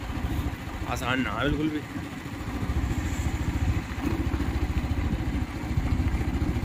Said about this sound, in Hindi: हालांकि मोटरसाइकिल के आरपीएम तो बहुत तगड़े हैं, 9000 आरपीएम पे चल रही है